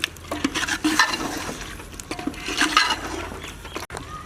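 Beef being stir-fried in a pan for a red chilli beef dish, with a steady sizzle under repeated scraping and stirring strokes of a spoon against the pan, close and clear.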